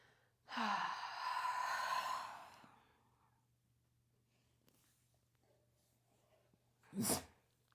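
A pet dog named Kylo gives a sharp, breathy sneeze-like burst lasting about two seconds, then near silence, then a second brief snort close to the mic, with no talk.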